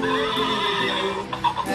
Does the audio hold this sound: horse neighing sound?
yes